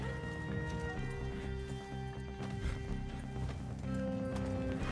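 Horse galloping in Red Dead Redemption 2, a steady rhythmic clip-clop of hooves running continuously beneath sustained tonal background music, moderately loud and close.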